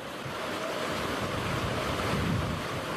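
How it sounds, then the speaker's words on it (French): Floodwater rushing through a flooded town street in France during storm Gloria, a dense, continuous roar of moving water with wind-like broadband noise, steady and fairly loud throughout, no voices. "En une nuit, cette rue s'est transformée en rivière."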